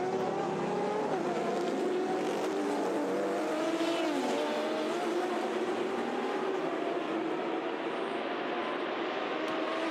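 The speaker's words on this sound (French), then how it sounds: "So we see that the number 7 Toyota has retaken the lead thanks to José María Lopez" Toyota endurance race car at the 2019 24 Hours of Le Mans, its engine droning steadily with pitch sweeping as it passes, mixed with other track noise over a constant roar, no talk.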